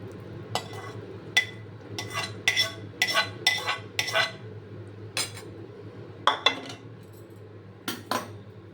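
A spoon clinks and scrapes in a bowl as tomato pieces are stirred into a banana and yogurt chutney, irregular close taps and scrapes over a quiet background with no talking.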